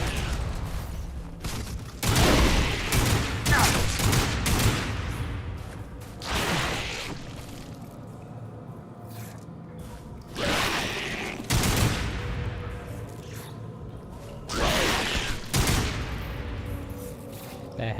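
Bursts of enemy gunfire in Lost Planet 3 crackle in several loud volleys, a dense cluster early on and further sharp rattles spaced through the rest, with quieter mechanical game ambience between.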